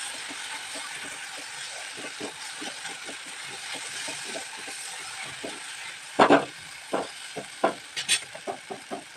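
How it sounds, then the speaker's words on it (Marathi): Onion and tomato fry in oil in a pan, a constant sizzle under repeated scraping strokes of a spatula that grow sharper and louder toward the end. "किती छान असं कांदा टोमॅटो फ्राय झालाय. किती छान असे तेल सुटले भाजीला"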